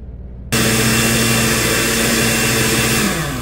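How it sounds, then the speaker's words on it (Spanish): Blender whirring at full power as it purees a vegetable-heavy beef stew sauce, switching on abruptly after a brief quiet moment and running loud and steady to the end. "Bueno, entonces vamos a licuarlo."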